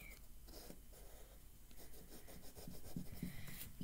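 A pen draws and fills in triangles on paper, making soft, close scratching and rubbing strokes in short bursts that grow busier toward the end, with no talking.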